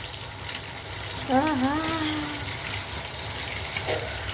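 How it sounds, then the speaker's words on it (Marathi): Chicken lollipops deep frying in oil make a faint, steady sizzle, with a short wavering tonal sound rising over it partway through. "तळायला पण सोपं जातं फ्राय काढतो सांगे लॉलीपॉप"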